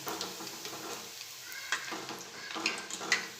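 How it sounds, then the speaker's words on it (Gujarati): Kothmir vadi sizzling as it fries in hot oil, a steady soft crackle broken by occasional light stirring clinks of a utensil in the pan. "તેલ ગરમ છે એટલે ફ્રાય થતાં બહુ વાર નથી લાગતી"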